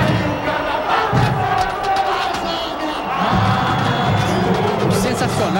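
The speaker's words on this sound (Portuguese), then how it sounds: "Olha o aplauso." A huge crowd at the Águia de Ouro samba school carnival parade cheers and roars in a loud, continuous swell, with shouts and thumps rising out of the din. Voices are heard throughout.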